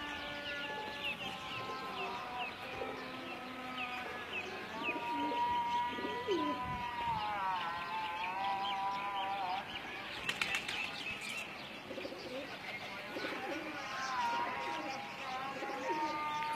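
Pigeons coo and wings flap nearby while other birds chirp, with someone talking over the birds throughout.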